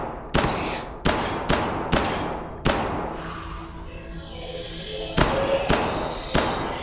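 Gunfire in the video game Hidden Deep lands as sharp, evenly spaced shots, about ten in all, with a quieter echoing stretch in the middle before the shots resume.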